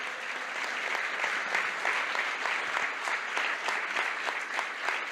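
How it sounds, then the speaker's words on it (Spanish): Steady, full applause from a crowd at a book presentation by the Madres de Plaza de Mayo, continuous and fairly loud for about five seconds without speech over it. "Fuerte el aplauso a Sixto Valdés."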